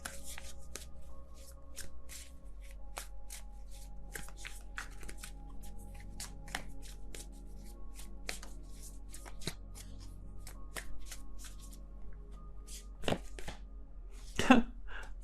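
Tarot cards shuffled by hand, a steady run of soft riffling and flicks with a few sharper slaps near the end, close and fairly quiet over a low steady hum.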